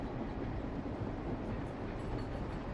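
A train rolling steadily in the video game Elroy and the Aliens, a continuous low rumble without breaks or voices.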